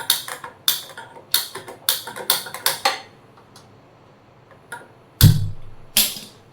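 A gas stove's igniter clicks in a rapid run of about a dozen sharp, close ticks, followed by a pause and a couple of heavier knocks.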